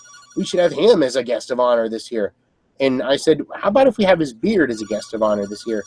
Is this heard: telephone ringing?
yes